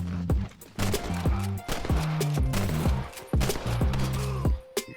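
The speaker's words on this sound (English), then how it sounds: "Right there, he shoots me through the fence a couple times." Gunshots in Red Dead Redemption multiplayer, several sharp close reports in quick bursts over a steady musical backdrop of low sustained tones, with short gaps between shots.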